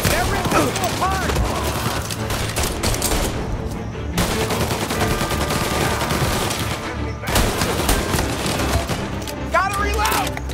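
Rapid gunfire bursts and repeated shots in the game Mafia Definitive Edition, a dense, loud, sustained exchange with brief lulls and a voice talking over the action.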